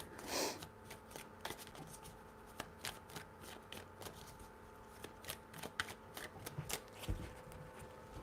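Close, quiet shuffling of a tarot deck, with a soft opening flutter and then steady, crisp card flicks and taps repeating at an irregular pace, no voices.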